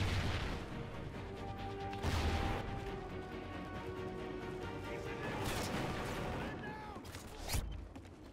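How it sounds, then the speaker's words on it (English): Bursts of gunfire and heavy booms from the shooter game Call of Duty Ghosts crackle through a busy multiplayer match. Several sharp shots and impacts land over a constant background, with voices talking underneath. "I'm just gonna walk right in the middle of your gunfire"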